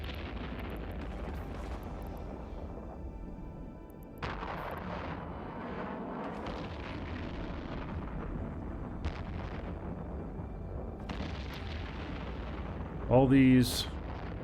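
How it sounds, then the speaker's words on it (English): Missile impacts in the space game EVE Online land as booming, rumbling explosions under continuous low battle noise, with a sharp loud burst near the end while someone talks over the action. "See, the missiles hit."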